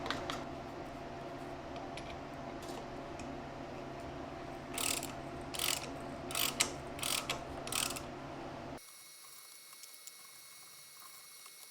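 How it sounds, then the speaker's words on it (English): A ratcheting tap holder clicks in short bursts while hand-tapping threads in metal, close and fairly quiet over a steady background hum that cuts out near the end. "where I got this ratcheting tap holder"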